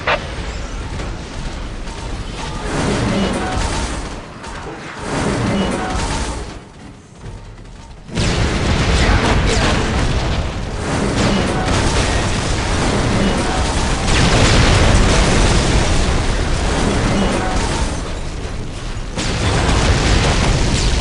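Dense, continuous battle din from Warhammer 40K Dawn of War Dark Crusade, with booming explosions and rapid gunfire layered loudly throughout, a brief lull midway, then renewed heavy barrage.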